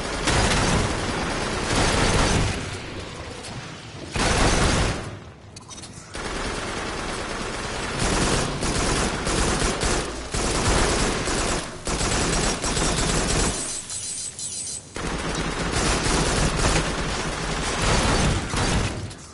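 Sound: gunfire in the Farpoint video game

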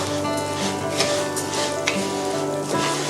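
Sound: stir-frying chicken-fat rice in a pan

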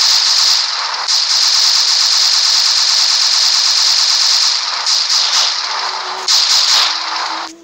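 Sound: gunshots

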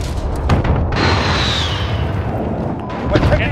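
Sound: airstrike explosion in Call of Duty Modern Warfare video game

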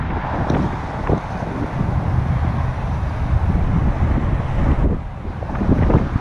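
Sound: wind blowing while trout fishing

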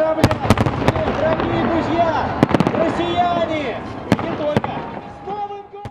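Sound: fireworks over Moscow's Red Square

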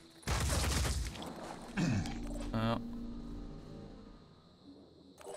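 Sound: gunfire from video game Phoenix Point

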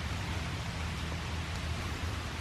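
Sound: rainwater stream running down the hillside

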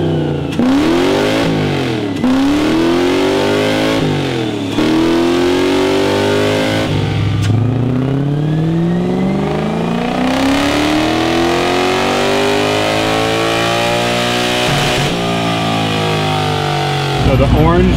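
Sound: V8 drift truck engine revving during dyno pull

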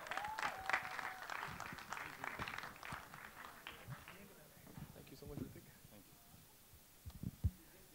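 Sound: audience applause for actor at song launch event

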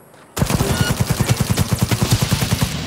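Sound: gunfire in video game Cyberpunk 2077

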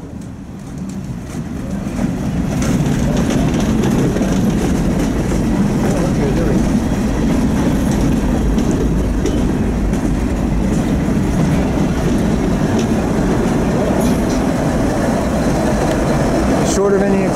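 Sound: freight train with distributed power unit passing

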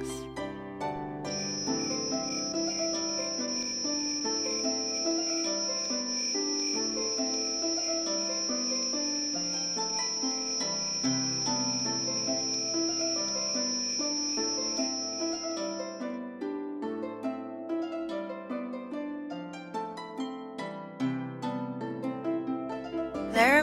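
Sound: crickets chirping

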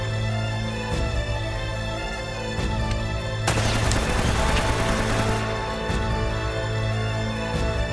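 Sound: gunfire in the video game Uncharted

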